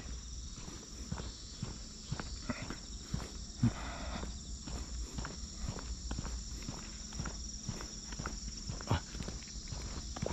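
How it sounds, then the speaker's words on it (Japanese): A generator at a mountaintop farmers' training center gives a steady low hum throughout, with footsteps and small rustles over it and a brief vocal sound. "これ発電機の音なんだ、これ。"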